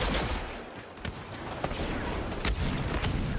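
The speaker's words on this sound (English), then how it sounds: "Yeah, decent amount of explosions." Explosions and gunfire in the Star Wars Battlefront 2 beta, a dense continuous rumble of battle broken by sharp bursts of blasts and shots.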